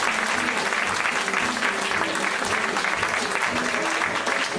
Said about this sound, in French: je crois qu'on peut tous les applaudir très très fort.